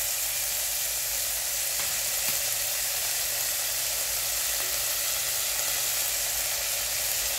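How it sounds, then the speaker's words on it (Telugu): Green peas sizzling in a pan for a spinach pulao, a steady, even hiss of frying from close by with no talk over it. "గ్రీన్ పీస్ కొద్దిగా వేగిన తర్వాత"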